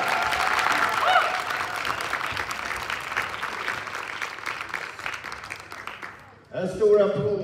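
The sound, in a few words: audience applause for wushu winner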